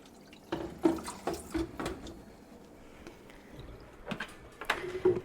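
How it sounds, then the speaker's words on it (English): Water poured from a pitcher into a front-loading washing machine door to rinse out a scrubbed rubber seal, heard as a series of close splashes and trickles in short bursts, with quieter dripping between them. "So now I've just got a pitcher of water and I'm just gonna pour it in here"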